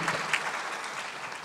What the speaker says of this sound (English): just congratulate by giving a clap to Jacqueline Coke-Lloyd